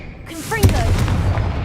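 A Confringo blasting spell in Hogwarts Legacy lands with a booming explosive impact after a short whooshing cast, then a rumbling tail, while a voice speaks over the start.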